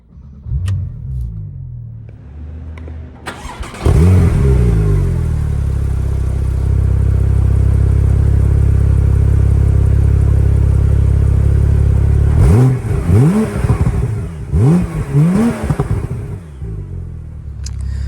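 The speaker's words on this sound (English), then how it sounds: "go ahead and turn it fully to fire up the engine" A 2015 Porsche 911 Turbo S engine cranks and catches, then settles into a loud, steady idle before several sharp revs rise and fall near the end.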